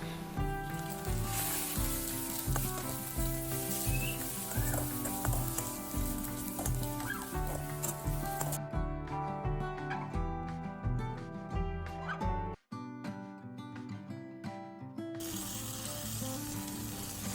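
Spices and meat masala for an egg curry sauté in a hot pan, giving a steady close sizzle and crackle with stirring scrapes, while music plays throughout and briefly drops out near the end.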